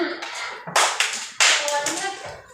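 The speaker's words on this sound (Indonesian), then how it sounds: "Sekali lagi, one clap." A class of children clapping in a classroom, with two ragged bursts of claps that are not quite in unison, heard under ongoing talk from the group.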